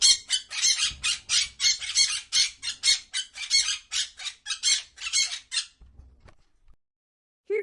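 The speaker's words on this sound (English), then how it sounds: "This is a parrot." A parrot gives a rapid run of shrill, harsh squawks and squeaks in quick succession, loud and close, then falls silent for a moment before one more brief call at the end.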